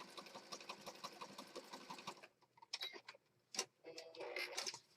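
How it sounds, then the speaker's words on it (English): A sewing machine stitching down the sides of a handmade Christmas junk journal, with quick rhythmic needle ticking for about two seconds, then scattered short clicks and handling noises, faint and close. "so now we're going to stitch down the sides"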